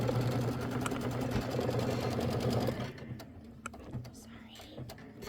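Embroidery machine stitching a placement line for a popsicle block on a mini quilt, a steady rapid mechanical whirr for about three seconds that then stops, leaving quieter handling noises and faint talk.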